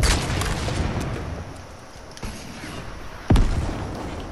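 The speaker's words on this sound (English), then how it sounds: "Oh, I blew myself up." A player's own rocket explodes in Fortnite: one sudden loud boom rises out of steady game noise and gunfire, then fades.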